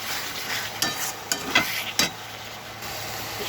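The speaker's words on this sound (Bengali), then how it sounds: "আদা রসুন পেঁয়াজ বাটাটা কষে নিচ্ছে" A ginger, garlic and onion paste sautéing with tomato paste in a pan: a continuous hissing sizzle, with a few sharper scrapes and stirs of a utensil near the middle, heard close with no talking.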